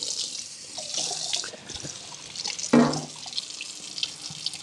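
Tap water runs steadily into a kitchen sink while hands are washed after cutting jalapeños, a close, continuous splashing hiss with a brief louder gush partway through.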